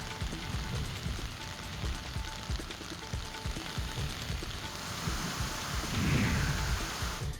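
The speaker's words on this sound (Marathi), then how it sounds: "पुण्याच्या औंढी परिसरामध्ये जोरदार अवकाळी पाऊस झाला" Heavy unseasonal rain falls in Pune, a dense steady hiss of downpour on surfaces with low rumbling beneath and a swell of louder rain near the end, no voices.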